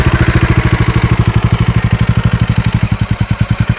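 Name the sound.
motorcycle engine idling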